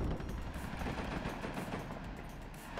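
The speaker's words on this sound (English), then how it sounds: "the flame tank is firing flames and everything else" Units in the WARNO strategy game fire all their weapons at a targeted position, including a flame tank, producing a dense, unbroken roar of rapid gunfire and blasts that fills the whole stretch.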